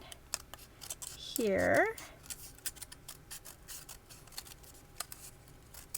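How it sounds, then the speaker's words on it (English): Scissors cutting through paper or craft material in a few quick close snips, with a longer cutting stroke early on and a person speaking over it. "I'm just going to kind of cut wide, and then we're going to go thin"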